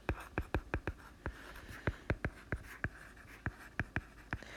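A pen or marker writes on paper or a board in quick, faint, close strokes with a steady scratching rhythm. The sound carries on without pause over a quiet background.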